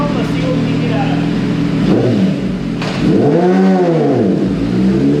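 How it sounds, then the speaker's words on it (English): 2020 Kawasaki ZX10R fitted with a slip-on exhaust screams through a full pull on a dyno, its loud engine note climbing in pitch, dipping as it shifts, then surging and sweeping up and down again near the end. "this should be the last pull on the 2020 ZX10 with a slip-on"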